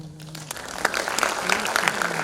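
An audience at a Hindi motivational talk gives scattered applause that builds into a dense patter, fairly quiet and distant, with a faint voice briefly audible at the start.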